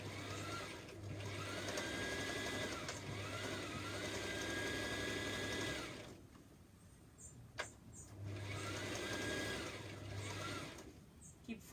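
A sewing machine back stitching a seam on a top, running in two long steady bursts with a pause between, close and loud with light handling noise in the gap.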